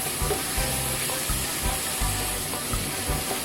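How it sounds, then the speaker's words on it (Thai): Pickled mustard greens frying in a pan as a little water goes in, giving a loud close sizzle with rhythmic bursts of stirring throughout. "น้องก็จะใส่น้ำลงไปหน่อยนึงเพื่อให้เครื่องปรุงเนี่ยเขาซึมซาบเข้ากับ ตัวผักกาดได้ดีนะคะ"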